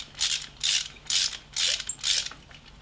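A screw is tightened on a BMW GS front brake caliper with a ratcheting tool, five evenly spaced bursts of close, crisp clicking with short pauses between strokes, and no talking.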